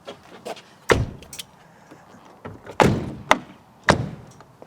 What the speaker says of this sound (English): Shut all the doors then.